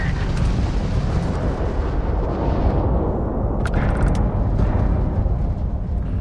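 In the space-combat game Starfield, a homing missile strikes an enemy starship, producing a sustained, loud rumbling explosion with a couple of sharp crackling bursts near the middle, continuous throughout.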